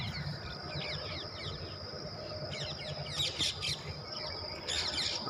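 Birds chirping on a Maharashtra farm in the morning among marigold, okra and vegetable plots: scattered bright tweets and squawks, some in quick bursts, over a steady outdoor hum.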